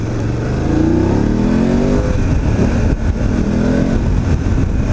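A motorcycle with full LED headlight revs and accelerates nearby, the engine rising in pitch in a couple of surging pulls over steady road noise.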